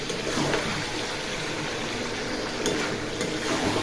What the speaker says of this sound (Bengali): এবার আলু শুদ্ধ একটু কষিয়ে নেব।